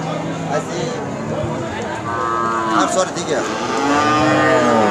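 Cow lowing repeatedly at a cattle market, long drawn moos near and loud amid crowd chatter and someone talking close by.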